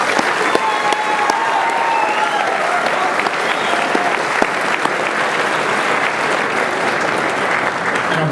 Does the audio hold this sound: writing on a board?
no